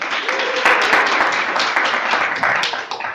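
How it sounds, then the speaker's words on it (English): A meeting audience applauding for a birthday, dense close clapping of a roomful of people throughout, with a few louder sharp claps standing out. "Everybody give Lucas a round of applause."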